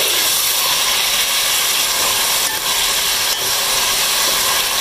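Steady sizzling of chicken frying in a pan for chicken nihari, a continuous loud hiss with faint clinks of utensils, no voices.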